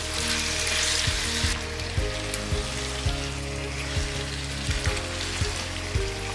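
Marinated chicken for an Indian-style chicken stew fries loudly in a pan over high flame, with a steady dense sizzle and repeated scraping stirs at regular intervals, close up and without talk.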